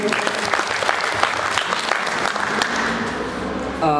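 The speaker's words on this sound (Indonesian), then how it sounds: "tepuk tangan untuk Balfa Fauzin" A room full of students applauds a classmate's answer in a sustained, dense burst of clapping that carries on for several seconds, with faint voices mixed underneath.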